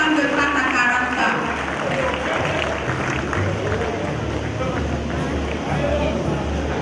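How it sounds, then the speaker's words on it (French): Dense, steady applause from a crowd at the 46th anniversary celebration of ASC AD Gounghin, honoring a performing group and sustained evenly for about seven seconds over a low background rumble. "Applaudissez pour le groupe Anne, une jeune femme de Patakaraka."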